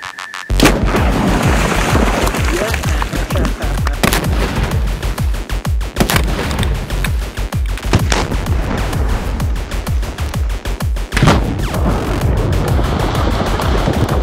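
A four-pound explosive charge blows apart artwork and surrounding pieces, a loud booming blast followed by long rumbling, crackling debris and repeated sharp bangs, heard outdoors without talk.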